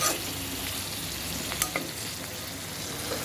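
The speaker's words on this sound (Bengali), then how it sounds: "টাকি মাছটা কষাবো।" Taki fish sautéing in a pan, a steady close sizzle with a few brief stirring scrapes and clicks near the middle, no talk.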